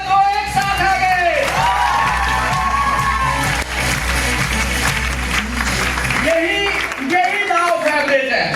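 A seminar audience in Ambikapur claps and cheers together, a dense, steady wash of applause and raised voices that fills the room throughout.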